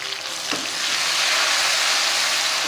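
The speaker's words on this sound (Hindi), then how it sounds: "देखिए प्याज हमारी गोल्डन ब्राउन हो चुकी है। अब इसमें फ़ौरन ही मैं टमाटर शामिल कर दूँगी।" Tomatoes tipped into onions already frying golden brown in hot oil set off a loud, hissing sizzle that swells and holds steady for a few seconds, with a brief stirring clatter near the start.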